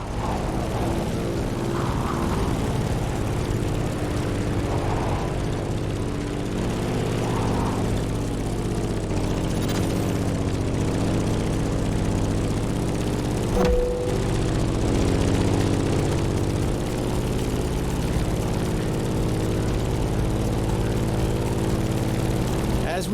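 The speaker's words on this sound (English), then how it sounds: "In the cockpit of a stunning Grumman F8F Bearcat, or simply the Bear." A Grumman F8F Bearcat piston propeller fighter drones steadily in a racing video game, its engine a loud, continuous low hum with a faint rising whine near the middle and no break throughout.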